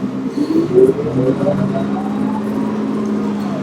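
Interior of a moving bus, with a steady engine rumble and road whir throughout, swelling briefly as the vehicle accelerates early on, then settling into a constant drone.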